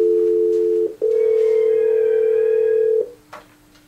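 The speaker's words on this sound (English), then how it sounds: "We'll begin by placing a call." A steady telephone dial tone from an office desk handset as a call is placed, held for about three seconds after a brief dip, then stopping abruptly as a short click follows.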